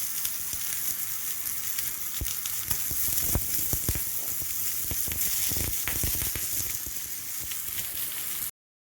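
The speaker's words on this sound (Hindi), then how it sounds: "सिजलिंग डिश में, जो कि पहले से गर्म होने के लिए चूल्हे पर रख दी थी, थोड़ा सा ऑयल डालकर प्याज वगैरह इसमें सौते कर लेंगे" Onion sautéing in a little oil on a preheated sizzler dish set over a stove, a steady close sizzle with scattered sharp crackles and pops throughout, no voices, ending abruptly.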